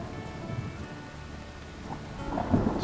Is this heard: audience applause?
no